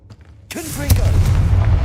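Confringo spell firing in Hogwarts Legacy: a quiet lead-in, then a sharp whooshing launch and a heavy booming explosion that keeps rumbling loudly to the end.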